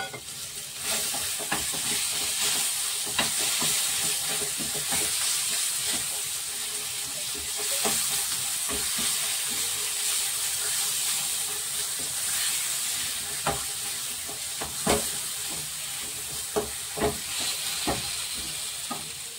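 Lentil filling fries in a pan with an asafoetida tempering, a continuous sizzle under repeated scraping and stirring clicks from a utensil against the pan.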